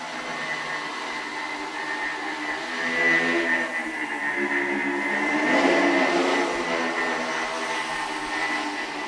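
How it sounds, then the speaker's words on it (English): A quadcopter built from two joined two-propeller flying machines gives a steady, close whirring buzz with a tonal whine, swelling louder twice before settling. "When you put them together, they behave like one high-performance quadricopter."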